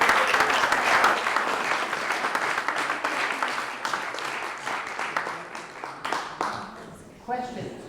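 An audience at a talk breaks into a full round of applause, loud dense clapping that gradually thins and fades, with a speaker's voice coming in at the end.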